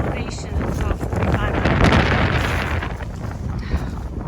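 Strong wind gusts of up to 60 mph roar around a high shelter on the Appalachian Trail, a loud, steady rushing that buffets the microphone and swells before easing slightly.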